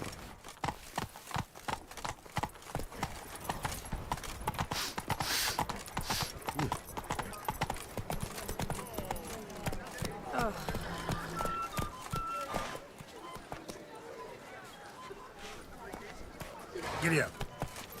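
Galloping horse hooves in a video game, quick rhythmic clip-clop beats running under frequent talking and occasional game sounds, easing off near the end.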